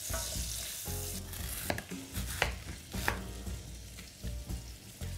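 A knife chopping shredded cabbage for Polish haluski, a run of brisk, close cuts on a board with a steady kitchen hiss behind them and no talking.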